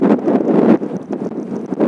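Wind buffets the microphone outdoors on a lake shore during early-spring bream fishing, a loud, gusty, rumbling roar that surges and eases over two seconds with no speech.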